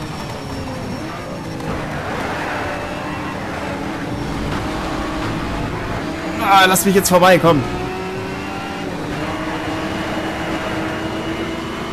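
Racing car engines in Need for Speed Shift roar throughout, with a Skyline, a Honda and a BMW 1 Series coupé on track. A sharp burst of tire squeal and impact noise comes midway, and someone talks over the constant engine drone.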